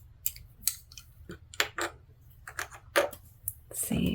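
A Ferris Wheel Press ink bottle is opened up close, with a series of small clicks, taps and scraping handling sounds in quick bursts against a quiet background, no one talking.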